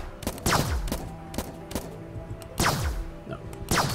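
Gunfire in the Starbound video game, a series of sharp laser-like shots with falling whooshing tails, repeating irregularly and loud against a steady electronic hum.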